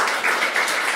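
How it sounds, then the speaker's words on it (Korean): Audience applause at an outdoor book concert in Goesan marking the first anniversary of the Sewol ferry disaster, a short steady burst of clapping from a crowd, dense and moderately loud with no voices over it. "뜨거운 박수 부탁드립니다."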